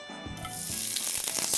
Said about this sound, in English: This oil must be hot enough by now, so let's get this saute going.